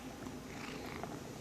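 A cat rubbing against things purrs softly up close, a brief, quiet, continuous rumbling purr.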